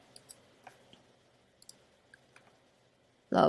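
A computer mouse clicks while someone works in an app: faint, sparse, close clicks scattered over a quiet background, ending in a sudden louder burst.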